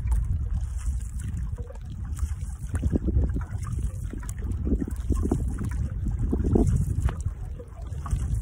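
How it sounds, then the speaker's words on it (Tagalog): Strong wind blows over a small boat at sea near an island, a steady broad roar mixed with water sloshing against the hull, with no pauses. "Kasi naman lakas yung hangin, no?"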